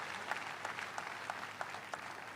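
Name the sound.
congregation applause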